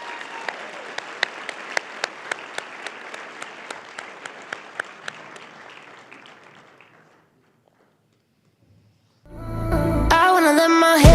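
A luncheon crowd applauds Mountain Vista High School winners, sustained clapping with a few sharp nearby claps that fades to silence before loud music starts.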